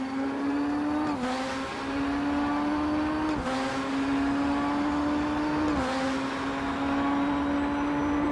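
A race car in the RaceRoom sim, heard from the chase cam, howls with a steady high engine note and a crackly, blown-diffuser-style exhaust rasp, dipping briefly at each gear change three times, loud and continuous with no talk.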